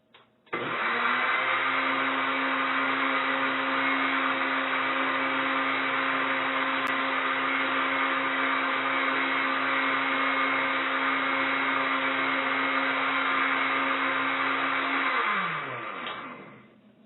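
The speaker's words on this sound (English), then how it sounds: "I need the top to the blender or something." A home blender runs without its lid for about fifteen seconds: a loud, steady motor whine with a harsh buzzing edge that starts abruptly, holds even, then winds down at the end.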